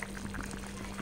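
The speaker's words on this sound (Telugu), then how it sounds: "బెండకాయ పులుసు ఉడుకుతుంది కదా, చూద్దాం." Okra stew (bendakaya pulusu) bubbles faintly in a pot, a soft, continuous simmer with small pops and no voices.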